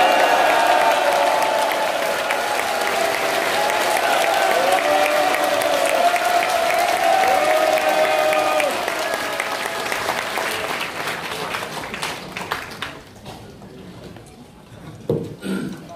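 A large audience claps at a party founding convention, dense sustained applause from a big crowd that slowly thins and fades out toward the end.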